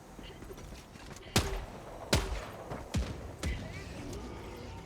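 Gunfire in Helldivers 2 comes as four sharp, separate shots spaced about a second apart. They crack out over a low, busy background of game noise.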